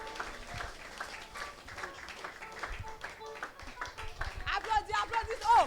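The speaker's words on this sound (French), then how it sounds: "Applaudis." A church congregation at a spiritual revival evening applauds, scattered clapping mixed with crowd noise and voices, with speech and exclamations rising toward the end.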